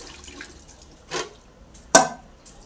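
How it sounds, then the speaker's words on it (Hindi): A kadhai being rinsed in a kitchen, with two short splashing bursts of water against metal, separated by quiet, close and fairly faint. "कढ़ाई को धो देती हूँ।"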